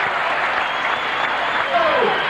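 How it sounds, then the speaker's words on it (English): Arena crowd at a 1985 NBL basketball game between the Adelaide 36ers and Brisbane Bullets at Apollo Stadium, roaring and applauding steadily and loudly as play heads into overtime, with a faint whistle-like tone near the end. "just listen to the crowd as we go into 5 minutes of overtime in this very vital match"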